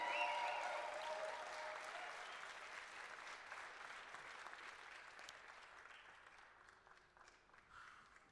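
A crowd at a bouldering competition applauds a climber with steady, dense clapping that begins loud and slowly thins and fades over several seconds, with a faint voice audible beneath it.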